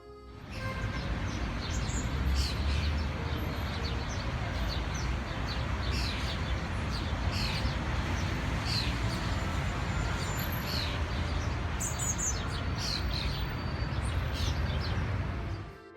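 Birds chirp and tweet in short bursts in the garden of the Saint-Jacques Tower square in Paris, heard faintly over a steady wash of city background noise, with no talk.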